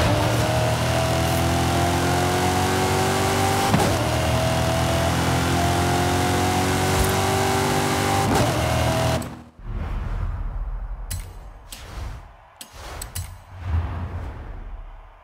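A 1969 Camaro revs in the racing game Forza Horizon 5. The engine drones loud and steady with gear-change dips for about nine seconds, then drops to a quieter idle broken by short sharp blips.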